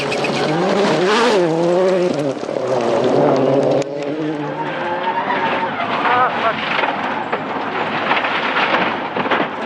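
Marco Martin's Ford rally car races through a gravel stage at the 2003 Rally of Greece, engine revving up and down loudly with gear changes, under a commentator's voice.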